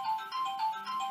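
Telephone ringtone playing a repeating melodic electronic pattern in short phrases, clear and fairly close, with no talking over it.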